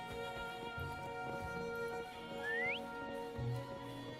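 A short rising whistle in the video game Wuthering Waves, a single clear tone sweeping upward over a steady sustained musical drone.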